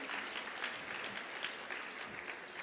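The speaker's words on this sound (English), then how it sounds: "Let's give them a warmer round of applause." A crowd at a women's health and wellness event applauds in a steady patter of clapping hands, fairly faint and distant, sustained for a few seconds without any voices.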